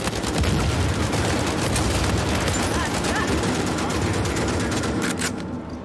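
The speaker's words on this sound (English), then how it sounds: "It's a lot of shots right there." Rapid gunfire in an Uncharted 4 multiplayer team deathmatch, a loud continuous barrage of overlapping shots and explosive bursts that tapers off at the end.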